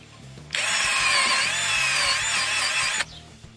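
Power drill fitted with a cleaning brush attachment scrubbing dirty car parts, a loud high-pitched whirring burst of about two and a half seconds that starts and stops abruptly, with quiet background before and after.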